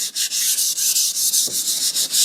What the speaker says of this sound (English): We're gonna hit it with like a sanding sponge as well.